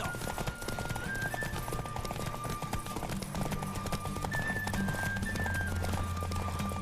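A horse gallops in a race in The Witcher 3, its rapid, rhythmic hoofbeats clattering steadily throughout under tonal game music.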